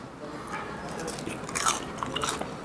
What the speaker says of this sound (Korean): 지금 우리 북경 오리 시원하게 빨리 먹겠습니다